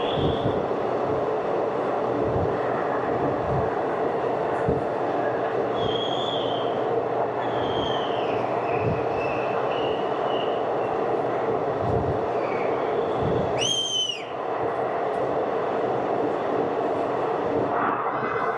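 A train runs through the 11.2-kilometre Qazigund railway tunnel on the Banihal to Srinagar line, a loud, constant rumbling roar heard from inside with occasional squeals, and a sharp high screech near the end.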